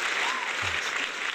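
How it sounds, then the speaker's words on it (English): Scattered applause from a small audience, a brief patter of hands clapping at moderate level. "I want to hear people clapping for me."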